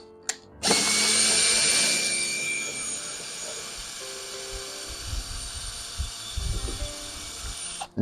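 A power drill backs screws out during a guest room remodel in a garage: a sharp start, then a sustained whirring drone for several seconds that slows and fades, with faint knocks and handling noise after it stops.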